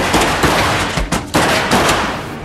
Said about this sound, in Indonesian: tak lama kemudian suara tembakan pun terdengar